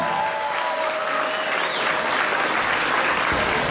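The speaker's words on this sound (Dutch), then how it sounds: "Applaus." At a kickboxing fight night in IJmuiden, a crowd bursts into loud, sustained applause for the winner, dense clapping and cheering that holds at full strength for several seconds.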